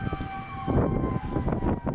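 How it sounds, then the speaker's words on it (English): Tornado warning sirens in Lawrence, Kansas sound as steady tones from a distance, heard under rumbling wind and background noise in the open. "That's sirens."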